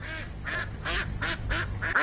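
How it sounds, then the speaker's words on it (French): Ducks on a Nanjing farm quack repeatedly in a steady series of nasal calls, about five or six close together, with low background noise. "听到鸭子叫了吗？"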